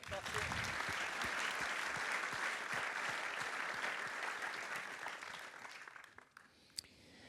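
Sustained applause from an audience at a talk fills most of the clip, steady and dense, then thins out toward the end with a few scattered claps.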